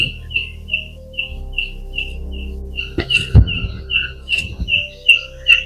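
A bird chirps steadily in a cemetery with large trees, a regular series of bright repeated tweets near and clear, briefly interrupted by a few thuds and rustles before continuing.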